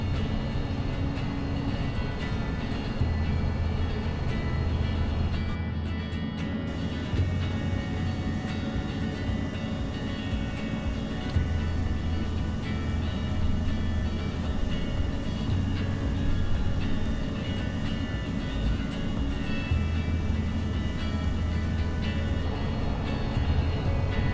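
Airbus A320 CFM engines in a Prepar3d flight simulator roar steadily at climb thrust as a constant broadband drone with a low hum, heard from inside the aircraft without speech.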